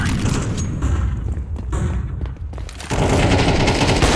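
Rapid automatic gunfire in Counter-Strike 2 rattles on continuously as dense overlapping bursts, dipping briefly around the midpoint before a louder, sustained stretch of shots at the end.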